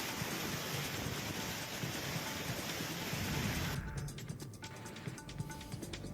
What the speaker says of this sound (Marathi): पावागड मंदिरात मुसळधार पावसामुळे पूरस्थिती निर्माण झाली